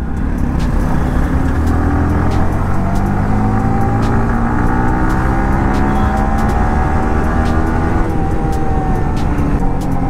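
Dense road traffic with cars and buses, a loud and continuous rumble of engines idling and revving nearby for the whole stretch, with no voices.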